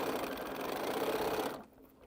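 A sewing machine stitches quilt pieces in one steady, fast whirring run that stops abruptly near the end, leaving a quieter pause.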